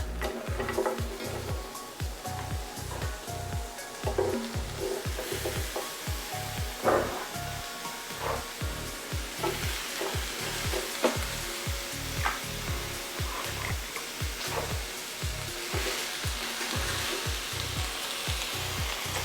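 Vegetables sizzle and fry in a hot pan while a smothered steak with mushroom and onion is cooked, with a steady sizzle and a regular, rhythmic clatter of stirring throughout.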